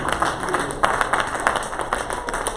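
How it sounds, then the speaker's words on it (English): A church congregation claps in praise, a brisk burst of hand claps with crowd noise throughout, fairly loud and busy, with voices mixed in. "Come on, give the Lord a hand clap of praise."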